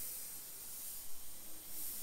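A Sagola XTECH 200 airbrush sprays with a faint, steady airy hiss for about two seconds. There is no voice.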